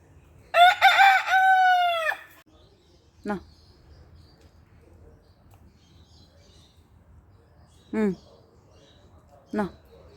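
A rooster crows loudly once near the start, a long rising and falling call, followed by a few short clucking calls spaced apart in quiet.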